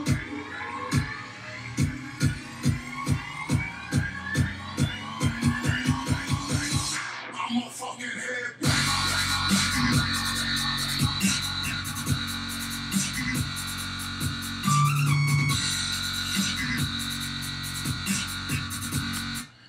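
A heavy, meaty dubstep synth bass patch built in Massive to recreate a track, first as rhythmic stabs and then a dense, sustained growling drop, loud and with no talk.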